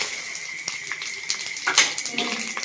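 Whole cloves, small cinnamon and mace dropped into hot oil for a Bengali desi chicken jhol, giving a steady close sizzle with a sudden louder crackling burst as they land.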